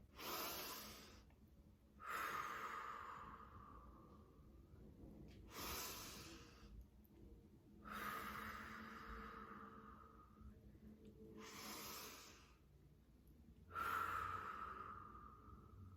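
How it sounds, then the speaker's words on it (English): Three slow, deep breaths are taken close to the ear, each a loud airy inhale followed by a long exhale, with quiet gaps between them. "let's take 3 deep breaths together"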